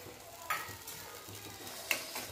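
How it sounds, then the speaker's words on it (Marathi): Spice paste with fresh milk cream roasts in oil over a medium-low gas flame for a spinach dish: a faint, steady sizzle with two sharp spoon clicks against the pan. "थोडंसं तेल सुटेपर्यंत आपल्याला भाजून घ्यायचे। गॅस कमीच ठेवायचा, मीडियम टू लो गॅसवर भाजून घ्यायचं।"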